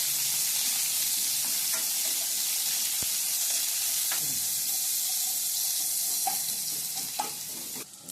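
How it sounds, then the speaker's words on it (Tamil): Onions sauté with curry leaves in a pan for poori kizhangu masala, giving a steady, bright sizzle throughout with occasional scrapes and clinks of stirring. "கருவேப்பிள்ளையோட வெங்காயம், வெங்காயம் சேர்த்து கொஞ்சம் நல்லா வதக்குங்க."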